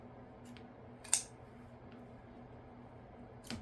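Scissors snip through folded ribbon tails at an angle on a wreath bow, making two crisp, fairly quiet cuts a couple of seconds apart over a low room hum.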